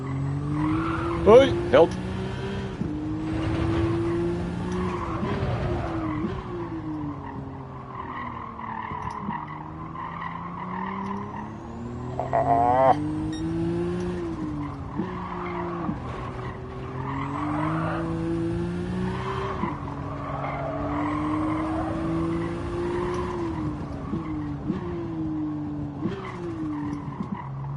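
Race car engine in Gran Turismo 7 at Tsukuba, droning steadily throughout with rising and falling revs through gear changes and brief tire squeals, while a voice speaks over it.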